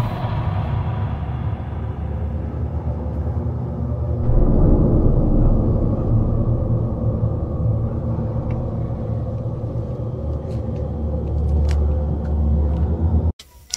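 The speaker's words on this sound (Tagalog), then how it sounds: "Ano ba to, kotse?" A car passing at night, a continuous low rumble that swells near the middle and then slowly fades, with faint clicks toward the end.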